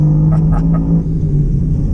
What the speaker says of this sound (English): This Mustang's so loud.